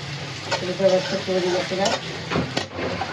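Fish frying in hot oil in a home kitchen, a steady close sizzle broken by a few stirring scrapes and clinks of a utensil against the pan, with a brief faint voice.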